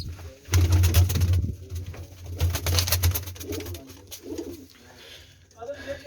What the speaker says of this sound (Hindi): आगे इसके साथ ये निसा फिरोजपुरिया कबूतर लगाया हुआ